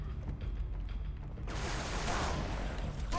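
A shotgun fires in the Halo video game, a sudden loud blast that opens into a long, dense roar of gunfire and noise lasting to the end.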